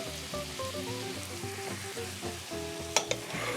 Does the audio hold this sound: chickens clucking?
no